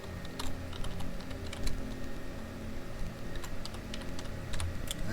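Keys clack on a computer keyboard while text is entered into a spreadsheet cell, a steady run of light, close taps with brief pauses and a few sharper strokes, no talking.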